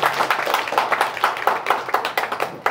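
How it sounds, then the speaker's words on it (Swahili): Audience at a CCM party branch office handover clapping for their representative, a steady rapid patter of many hands, close and lively, with only faint murmur underneath. "Tumpigeni makofi sana mheshimiwa mwakilishi"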